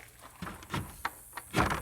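Old wooden farm door on a salvage property swung open, giving a few scattered soft thunks and scrapes spread over a couple of seconds, fairly close and moderately quiet with no talk.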